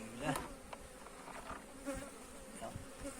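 Dense insect buzzing from a honeybee swarm in a wild pear tree, a steady swarming drone close by with brief louder passes as individuals fly near.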